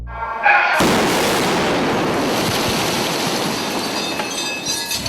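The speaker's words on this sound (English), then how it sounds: "Black powder bomb, about a 3 ounce. It's commonly known as a lifter." A roughly three-ounce black powder lifter bomb, used as a film special effect, goes off with a sudden loud blast that fades into a long rumbling, hissing roar of falling debris; no talking.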